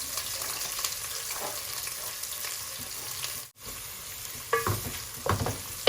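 Ginger, onion and garlic frying in a pan, a close continuous sizzle broken by stirring scrapes, with a brief dropout midway and a few sharper clatters and spatters near the end.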